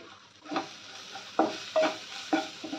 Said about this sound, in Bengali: নুন আর হলুদটা দিয়ে আমি একটু এগুলোর সঙ্গে মিক্স করে নিচ্ছি পেঁয়াজের সঙ্গে।